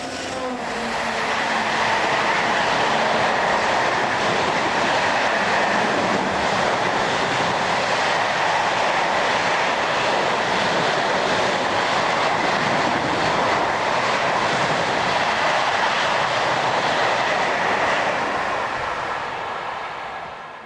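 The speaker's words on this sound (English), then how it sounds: "German operator EVB works some container trains between Hamburg and Bremen." EVB locomotive 62201 hauling a container train between Hamburg and Bremen, a steady broadband rumble and rolling rail noise sustained at close range throughout, with no talk.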